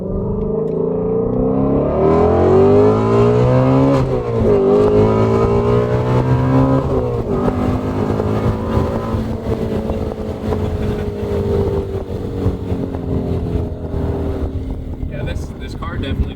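Ford Shelby GT350 engine revving high and dropping through downshifts while driving, a loud, sweeping roar with rising and falling pitch and a voice talking over it.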